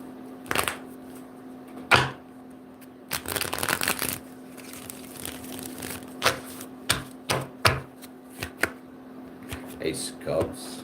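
Tarot cards are shuffled near the microphone in a series of quick riffling bursts and sharp slaps, irregularly spaced, with a faint steady hum in the background.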